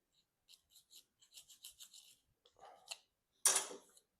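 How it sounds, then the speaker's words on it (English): Blade scraping glue from the top of a plastic arrow, a string of short, faint, close scratching strokes in quick bursts, ending in one louder rasp. "Scrape off any off the top without shaving away plastic."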